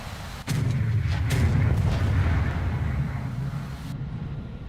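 A bomb dropped by an F-16 in War Thunder goes off with a sudden heavy boom, then a rumbling roll of blast noise that slowly fades away.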